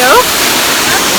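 A waterfall in a canyon roars as a loud, dense, steady rush of falling water, close by. A short voice is heard briefly at the very start.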